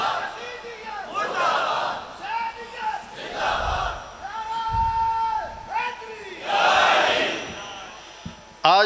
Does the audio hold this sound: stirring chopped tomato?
no